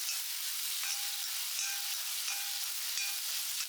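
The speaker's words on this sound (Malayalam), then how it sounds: "ചട്ടിയിൽ വെളിച്ചെണ്ണയൊക്കെ പറന്നത് ചൂടായ ശേഷം ഈ ഉള്ളി പച്ചമുളകും വഴറ്റിയെടുക്കാം" Onion and green chili sauté in hot coconut oil in a pan, a steady close sizzle of frying with faint tonal whines over it.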